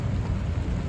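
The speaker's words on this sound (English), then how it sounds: "In the rain, here in Genoa." Steady rain falls around a sailing yacht near Genoa, a dense, even hiss with low rumbling wind or water noise beneath it and no voices.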